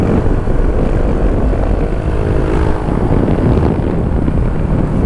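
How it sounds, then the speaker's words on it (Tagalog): Motorcycle engine droning steadily while riding a winding, curving road in Pangasinan, with heavy wind rush over the microphone throughout and no talk. "Sarap magmotor."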